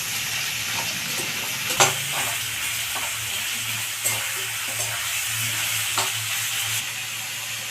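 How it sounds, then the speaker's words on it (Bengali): Onions frying with salt in a pan until lightly browned: continuous close sizzle with periodic clacks of a spatula against the pan, no one speaking. "পেঁয়াজটা আমি একটু হালকা লাল করে ভেজে নেব।"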